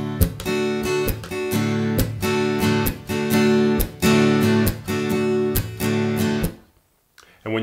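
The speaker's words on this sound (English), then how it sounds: "Now I'm going to change the strumming pattern up a little bit as well." Acoustic guitar strummed in a steady rhythmic pattern on chords, with repeated accented strokes for about six seconds before the ringing cuts off and stops; loud, close and played alone.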